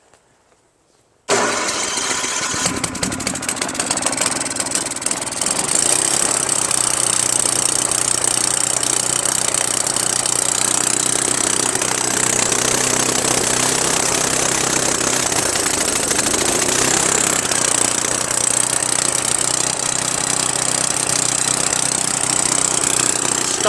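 A Craftsman 9HP Tecumseh snowblower engine starts abruptly after a moment of silence, then runs and idles steadily, a loud, constant near mechanical drone with no talking.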